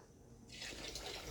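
Water pours into a pot for cooking rice, a brief, quiet trickle that swells into a fuller rushing fill halfway through.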